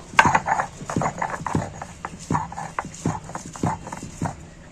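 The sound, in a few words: grinding and crushing spices on a sil grinding stone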